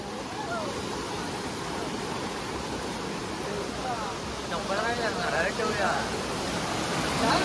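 Stream water below a tall waterfall in Devgad rushes in a steady, loud broadband roar, with faint voices calling over it toward the end.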